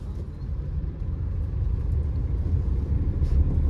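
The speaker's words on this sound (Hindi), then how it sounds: "अब जैसे हम स्पोर्ट मोड में ड्राइव कर रहे हैं, तो जैसे मैं फील कर पा रहा हूँ गाड़ी एकदम से उछल रही है, भाग रही है" Cabin sound of a 2023 Tata Nexon XE base model driven in sport mode: a steady low engine and road rumble that grows slightly louder, with no talk.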